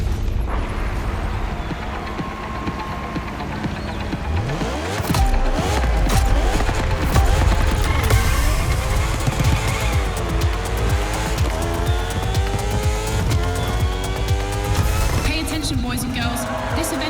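Racing motorcycle engines roar through a Red Bull time-attack event in The Crew Motorfest, with loud, continuous revving, sweeping pitch changes and tire squeals as the bikes accelerate and shift, under talk throughout.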